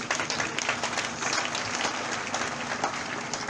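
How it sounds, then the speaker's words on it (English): A church reception audience at an interdenominational service grand finale in Ozalla claps in a steady, dense round of applause. The sound is loud and even throughout, with no speech on top. "My people, you deserve a round of applause."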